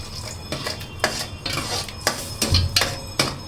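A utensil scrapes and knocks against a cooking pot while food is stirred, giving irregular clinks and rasping strokes at close range, with no one talking.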